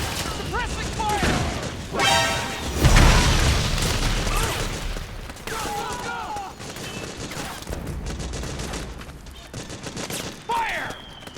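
Suppressing gunfire in Metal Gear Solid 4, with bursts of shots and booming impacts scattered across the scene, sometimes dense, sometimes sparse, mixed with shouted voices and other battle noise.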